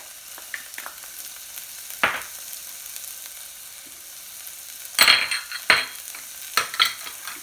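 Chopped red chili and white scallion pieces frying in a pan for Cantonese-style creamed corn with tofu, a low steady sizzle broken by several sharp bursts as the pan is stirred.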